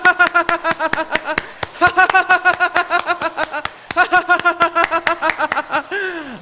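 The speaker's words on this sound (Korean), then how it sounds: "박수 준비." A church congregation at a Sunday afternoon service claps in quick, steady rhythm while laughing together in loud, voiced bursts of ha-ha-ha. A final sliding vocal cry closes the sequence.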